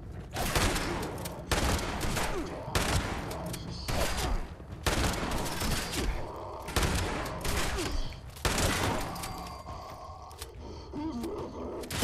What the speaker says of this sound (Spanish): Dale con la escopeta.